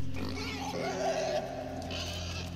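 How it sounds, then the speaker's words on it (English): Pig grunting in the video game Inside, a continuous low snuffling grunt heard close and fairly loud over a steady droning game soundscape, with no speech. "What the hell's up with this pig?"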